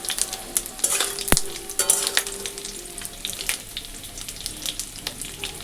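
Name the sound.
tempering leftover dal, frying in pan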